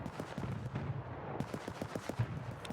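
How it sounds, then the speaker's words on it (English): Rapid bursts of machine-gun fire from emplacements in the video game Escape from Tarkov, sharp repeated cracks at a steady rhythm, moderately loud and continuous over the whole stretch. "And all of that fire, I believe, is directed towards us now."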